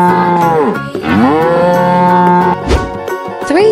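A cow moos loudly and repeatedly in a painting-and-crossing animal video game, several drawn-out close calls with a musical game tone in the background and no talk.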